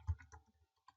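A few soft, quiet keystrokes on a computer keyboard: a thump, then scattered light clicks, and one more tap at the end, heard close in a silent room.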